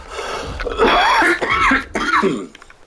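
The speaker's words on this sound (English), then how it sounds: "Didn't mean to cough in your face there." A man coughs a few times in quick succession, close and loud, with throaty, hoarse bursts. No words are spoken.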